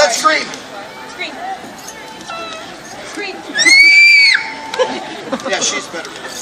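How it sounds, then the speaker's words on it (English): Children scream and shriek together in a noisy crowd, with one high, sustained squeal standing out above chatter and shouting for about a second, then the mix drops back to lively babble. "I screamed. Long and loud."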